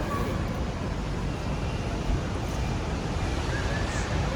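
Steady wind buffets the microphone outdoors beside an airport in cold weather, a continuous broadband roar with no breaks.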